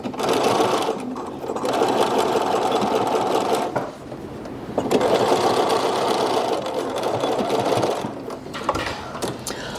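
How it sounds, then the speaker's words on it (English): Sewing machine stitching along the edge of an apron dress, a steady close whirring hum running in two long passes with a short pause between, no voices. "I'm just going to stitch along this edge to hold it."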